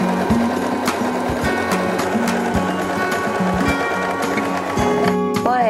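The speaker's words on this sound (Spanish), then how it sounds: "baja la palanca del prensatelas para empezar a coser" A Janome Alta Gama 2049x sewing machine stitches continuously with a steady rapid mechanical rattle and hum, close and loud, ending with a brief whir and clatter as it stops.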